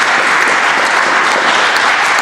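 An audience at a talk in Friuli applauds, a loud, dense, continuous clapping filling the room without pause.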